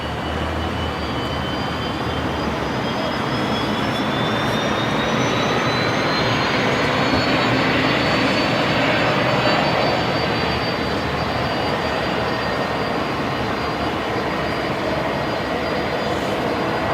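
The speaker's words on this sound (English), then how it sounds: "I can hear a Fokker on push and start there." Fokker aircraft engines spool up during pushback at Brisbane Airport, a steady, moderately distant turbine roar with a rising high-pitched whine that climbs and then holds over the whole stretch.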